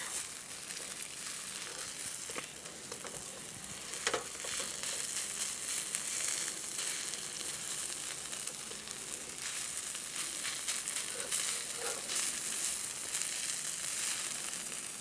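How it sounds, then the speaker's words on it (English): Chilies and garlic fry in a hot pan for Thai pad ka pao, giving a continuous close sizzle with a few crackles and small clatters, and no talking. "chilies, garlic go in. Slowly put that in. We're gonna let them cook until the garlic is a little bit brown."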